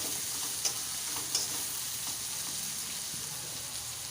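Chopped onions and green chillies sizzle steadily in hot oil in a pan, a constant crackling hiss with a couple of brief spoon or stirring clicks near the start.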